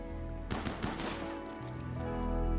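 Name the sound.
gunfire from a video game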